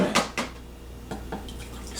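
Danger Coffee by Dave Asprey is poured into a cup in a kitchen, with clinks of the cup and a splashing, trickling pour heard close up against faint background hiss.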